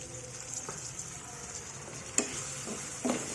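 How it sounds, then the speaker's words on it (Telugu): Green chilies fry in a pan for a peanut chili chutney, giving a steady soft sizzle with a few brief stirring clicks and scrapes, close and fairly quiet, with no talking. "ఈ కాయలు వేగిన తర్వాత చూడండి"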